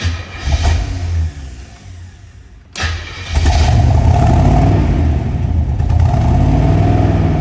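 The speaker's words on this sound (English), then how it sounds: "Oh man, listen to those side pipes." A 1967 Chevrolet Corvette with side pipes cranks over, cuts out briefly, then fires and settles into a loud, deep, steady rev with a continuous throaty rumble, heard alone up close.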